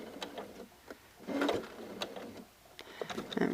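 A sewing machine stitches a macaw-print facing into a corner at a short stitch length, making quiet, uneven mechanical whirring and ticking in short bursts with pauses between stitches.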